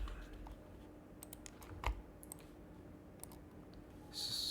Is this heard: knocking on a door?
no